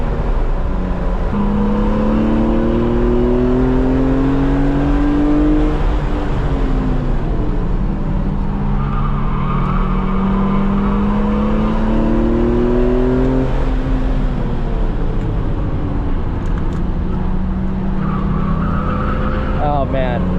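A BMW E46 M3 with SMG gearbox revs hard on a race track and climbs through the gears, loud and sustained, with tire noise and road roar underneath.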